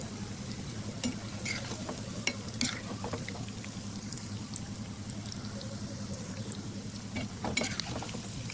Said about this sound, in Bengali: ভালো করে একটু সময় নিয়ে ভেজে নেব।